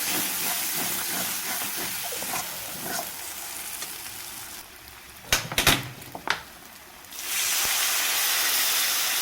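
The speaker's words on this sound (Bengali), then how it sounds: "জলটা একটু ফুটতে সময় দেবো" Masala for a Bengali duck-egg curry simmering with a little added water, giving a steady broad hiss and sizzle that drops away for a few seconds of faint clinks before the loud bubbling hiss returns.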